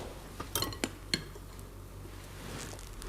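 A pot dragged across a stovetop in a home kitchen gives a few short, close metallic clinks and scrapes, then the room goes quiet.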